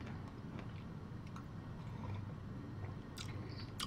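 Close-up crunchy chewing of powdered donuts, with quiet bites and soft crunches scattered over a low background hum, a sharper crunch near the end.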